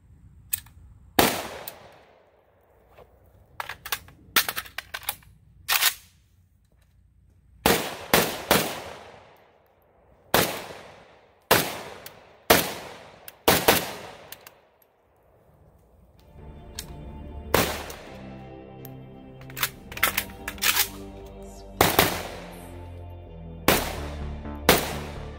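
AK-47 rifle fired in bursts of sharp, loud shots at an outdoor range, single cracks and quick doubles spaced across the stretch, with a brief lull midway.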